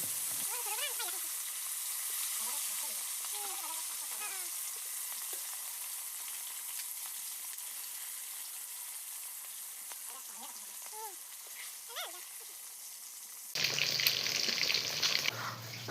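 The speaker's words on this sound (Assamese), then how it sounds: "মই ধুনীয়াকৈ সেই তেলেৰেই মাছ ভাজিছোঁ" Fish sizzles gently in hot oil, a soft, continuous crackling hiss; a louder burst of noise cuts in near the end.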